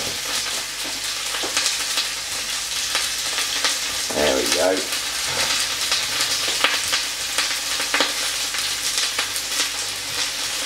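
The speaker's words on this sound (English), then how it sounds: "You can probably hear that frying away." Steady, close sizzling of leeks frying in a pan, with a brief stirring scrape midway and a short spoken remark.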